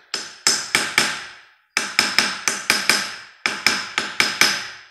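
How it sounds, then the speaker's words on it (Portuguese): Small hammer tapping a cast iron crusher bearing housing mounted on a lathe, three groups of sharp metallic taps, close and fairly loud, with a short pause between groups and no talking. "Nós pega o martelinho e dá uma pequena pancadinha aqui"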